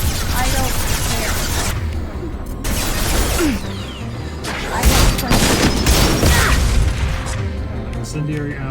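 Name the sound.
gunfire with incendiary ammo in a video game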